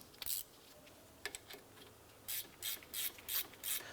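A ratchet snugs down bolts on the front wheel hub of a 2006-2011 Cadillac DTS, giving quick, close clicking bursts with short pauses between them.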